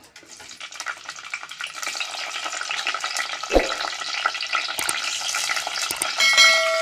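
Green chillies hitting hot oil in a pan for a fresh fenugreek curry set off a sizzle that swells and stays busy. A sharp clunk and a few utensil clinks break through near the middle and end.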